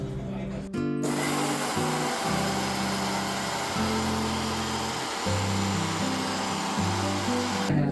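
A kitchen mixer grinder whirs as it grinds dry spices into powder for a village-style jackfruit curry. Its loud, steady motor whine shifts pitch several times and runs on its own for the whole stretch.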